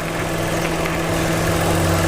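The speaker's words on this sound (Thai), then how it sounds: "ตัวนี้เป็นเครื่อง3สูบนะครับ" A Mitsubishi Attrage three-cylinder car engine idles steadily, a low continuous hum with a faint rhythmic throb and no voices.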